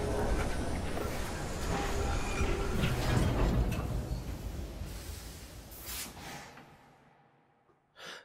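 A train in the Assassin's Creed Syndicate video game rumbles loudly with a broad, rushing roar that gradually fades away, followed by a brief muffled thump at the end.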